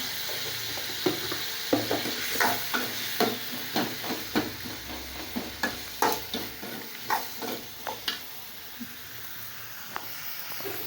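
Tomato chutney with dried red chilies and chili powder sautéing in a pan, a soft sizzle under a rhythmic series of spoon scrapes, roughly two per second, near and without speech.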